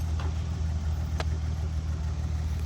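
An Allis-Chalmers pulling tractor, set up for tractor pulls, idles at a farm show with a low, steady engine rumble and a couple of faint clicks on top.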